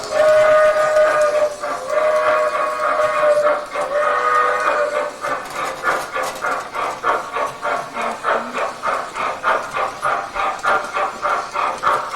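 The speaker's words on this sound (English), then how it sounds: "Show them the backup whistle." A small model steam train's backup whistle blows steadily, then gives way to rapid rhythmic chuffing pulses, loud and close, with no voices.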